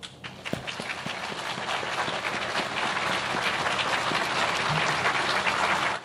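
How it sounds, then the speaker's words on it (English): Audience applause at the commissioning ceremony of the amphibious warship USS Richard McCool Jr., a broad sustained roar of many hands clapping outdoors, a few sharp individual claps standing out early, steady and loud throughout. "How about a round of applause?"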